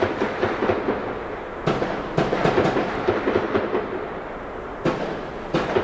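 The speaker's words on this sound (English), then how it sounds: "Those are gunshots, multiple gunshots being fired." A series of sharp gunshots, about a dozen, irregularly spaced and echoing at a distance over a steady background rumble, near the Midtown Four Seasons hotel.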